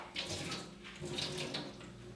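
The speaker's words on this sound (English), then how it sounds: "So I'm gonna just rinse out my yarn now" Dyed yarn being rinsed under a running tap, a steady hiss of flowing water splashing into a sink, fairly soft and continuous with small surges in intensity.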